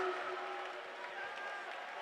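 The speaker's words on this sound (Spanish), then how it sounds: "Pueblos todos, batid las manos allá arriba." A church congregation claps along during a lively service, a dense, steady wash of many hands that holds through the whole stretch with some tonal sound mixed in.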